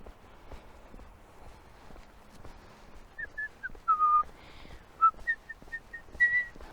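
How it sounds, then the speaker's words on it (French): A person whistles a short, halting tune of bright separate notes, starting faint and growing clearer, outdoors on a walk along a path down past an old stone church, with soft footsteps and light background sounds beneath. "Je siffle comme un pied."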